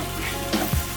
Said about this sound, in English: onion, together with the meat. And give it a little bit of a stir.